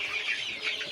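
Sonali chickens on a poultry farm of around five hundred birds cluck and murmur continuously as a dense flock, steady and close throughout the brief moment with no voices over them.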